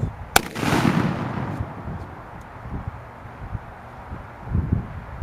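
An antique Civil War GAR SOV patriotic parade cannon fires one loud, sharp boom close by, its blast rolling away into a lingering outdoor rumble with a few small thumps afterward.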